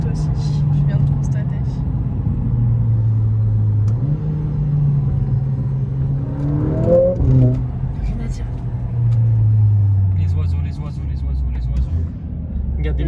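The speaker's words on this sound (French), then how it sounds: "Tu as le 4matic Plus. Bah hop, tu accélères." A Mercedes-AMG CLA45S with 4MATIC+ all-wheel drive, 421 hp, accelerating on a country road, heard from inside the cabin as a steady low engine drone that climbs through gears, with a short rising rev in the middle.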